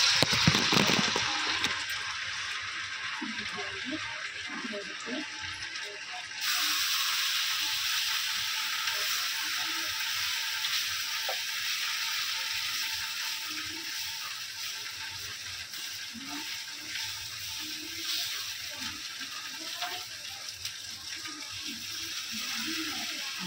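Dosa batter sizzles on a hot griddle (tava) in a home kitchen, a soft steady hiss that jumps louder partway through and then holds, with faint clinks and water sounds in the background.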